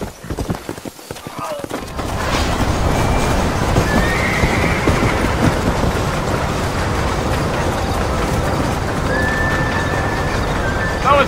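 Horse hooves clip-clopping at a steady gallop with a whinny, in the Red Dead Redemption video game setting; loud and continuous over a ride, with someone talking briefly at the start.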